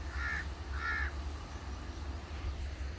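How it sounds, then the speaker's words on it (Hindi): Crows cawing in the morning at a village home, two clear caws early on followed by quieter background ambience, no talking. "ये देखिए कौवे आ गए।"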